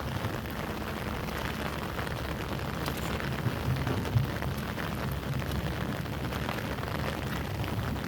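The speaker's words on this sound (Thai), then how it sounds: "ฝนน่าจะหมดนะครับ แต่ก็ ตกตลอดครับ" Steady rain falls outdoors during a festival at a reservoir in Thailand, a dense continuous hiss of drops on surfaces at moderate level, uniform throughout with no talking.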